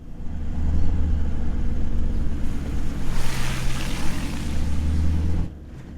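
A 4x4 driving through the flowing Gascoyne River crossing, with a rushing wash of water and low engine rumble swelling midway, then cutting off abruptly near the end.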